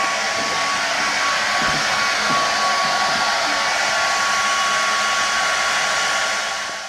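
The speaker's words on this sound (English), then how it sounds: "the hairdryer is acting as a source of fast-moving air" A hair dryer blows steadily at close range, a loud continuous whooshing hum with a faint tonal whine, tapering off at the very end.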